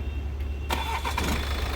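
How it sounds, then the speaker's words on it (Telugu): A 2016 BMW 520d car starts on a single crank, a short burst of starter whir catching into engine noise over a steady low hum. "సింగిల్ సెల్ఫ్లో కార్ స్టార్ట్ అవుతుందండి ఎటువంటి స్టార్టింగ్ ట్రబుల్ అయితే లేదండి"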